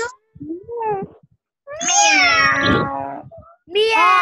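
Children's voices imitate a cat, giving a string of loud, drawn-out meows one after another, with short pauses between the mewing calls.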